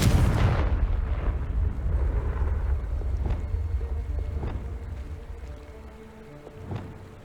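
A Confringo fire spell bursts in Hogwarts Legacy with a loud, deep blast at the start, followed by a rumbling low roar and a few fainter booming hits that slowly die away.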